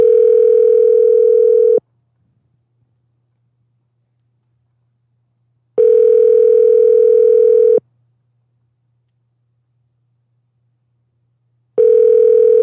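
Cell phone call ringing out, with loud steady ringback tones lasting about two seconds each, separated by roughly four-second silences, three rings in total.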